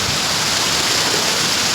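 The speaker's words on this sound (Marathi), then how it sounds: "2026चा पाऊस चालू झालेला आहे." First rain of 2026 falling steadily, a dense even wash of broadband patter with no breaks, close and moderately loud, no voices.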